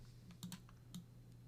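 Computer keyboard typing, a few soft, scattered key clicks in a short burst, fairly quiet over a steady low background hum.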